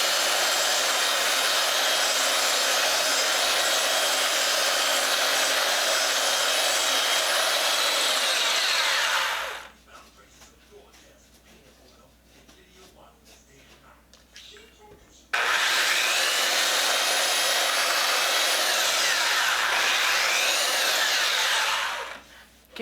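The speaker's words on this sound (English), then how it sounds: "All I have to do now is round the corners with the sander and lightly sand the edges." A power sander rounds the corners of a wooden table top, droning loudly and close, stopping for several seconds of quiet handling and light talk, then running again before shutting off.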